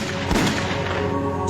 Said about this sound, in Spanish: Algunos disparos fueron escuchados por los controladores.